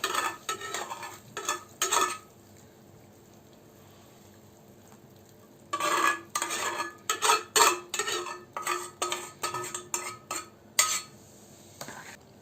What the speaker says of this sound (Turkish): kavurmuş olduğum salçayı da çorbamla birleştiriyorum.